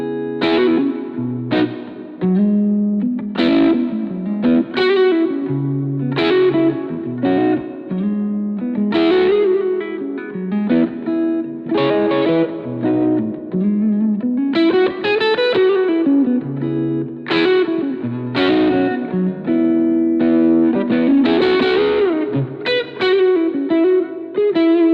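Clean electric guitar through a Yamaha THR modeling amp set to a Matchless DC30-style voice, in a clean sound, playing a steady run of ringing chords and single notes that fill the clip.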